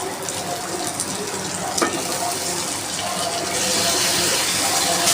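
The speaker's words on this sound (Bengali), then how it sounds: "টমেটোকে ভালো করে ভেজে নেব, একটুখানি কষে নেব।" Chopped tomatoes fry with turmeric and salt in a pan, a steady close sizzle that swells louder toward the end, with a brief scrape of stirring partway through.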